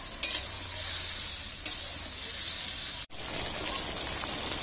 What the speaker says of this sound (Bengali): এইবার এই মশলার সঙ্গে ছালগুলোকে ভালোভাবে কষিয়ে নেব